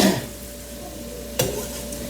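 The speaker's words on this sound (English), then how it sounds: "let's put this onion in" Chopped onion goes into a hot pan on a home stove and starts to sizzle, a soft steady frying hiss with a sharp clatter partway through as it lands and is stirred.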